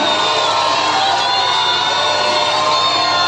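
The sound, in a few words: congregation shouting hallelujah loudly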